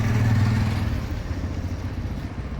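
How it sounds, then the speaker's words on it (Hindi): A motorcycle engine runs steadily on a road, a loud mid-pitched drone that slowly fades as the bike moves past, with no voices over it. "एक और बाइक।"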